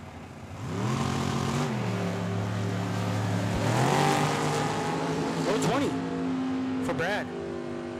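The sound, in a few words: Ford Mustang and dragster launching at a drag race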